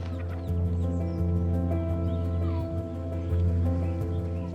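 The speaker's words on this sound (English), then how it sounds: "I usually feed my chickens with weeds" Chickens cluck and murmur close by over a low steady hum, with scattered short calls from several birds.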